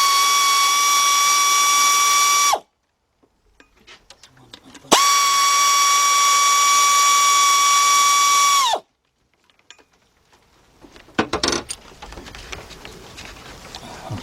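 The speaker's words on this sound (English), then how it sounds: "let's go around and take off our bolts" Pneumatic impact tool on the intake manifold bolts of a 2004 Chevy Monte Carlo 3.4 V6, two long, loud, steady high whines separated by a pause, followed by faint clinks and rattles.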